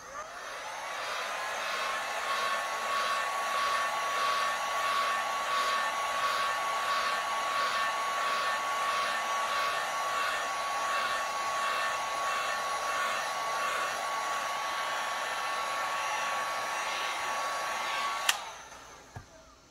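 A heat gun blows over epoxy on a beach-themed tumbler, a constant high whooshing whine with a steady tone that holds for most of the stretch, then cuts off with a click near the end.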